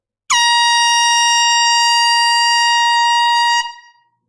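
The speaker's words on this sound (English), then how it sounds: "Hey, this air horn here is not bad." One long, loud, steady air horn blast sounds alone at close range, then fades out quickly.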